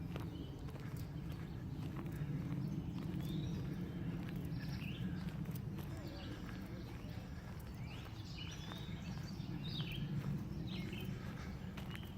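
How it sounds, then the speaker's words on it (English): Various birds chirp and whistle among the trees of an arboretum in faint, scattered calls over a steady rumble of wind and footsteps, with someone talking. "all different kinds of birds"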